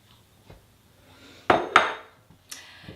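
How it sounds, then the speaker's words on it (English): Onions tumble into a large crock pot in two quick, close thuds with a short clatter, followed by a lighter knock, all at moderate volume with no talk. "I'm also going to dump my onions in."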